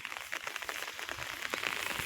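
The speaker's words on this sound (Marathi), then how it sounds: "आता आजचा पाऊस मी आपल्याला दाखवलाच" Heavy unseasonal rain pours down steadily in a village, a dense continuous hiss with scattered drops pattering nearby.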